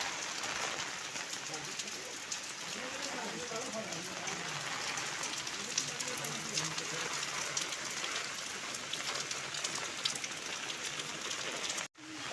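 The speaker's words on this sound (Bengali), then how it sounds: "যাচ্ছে এই বৃষ্টিতে।" Steady rain pouring down during a storm, a dense continuous hiss of drops on surfaces that goes on throughout, with brief faint sounds in the background and a sudden cut near the end.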